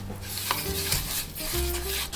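Egg yolks and sugar being mixed in a bowl for a chocolate cake cream, with continuous scraping and stirring strokes, light clinks of the utensil, and a faint tonal hum underneath.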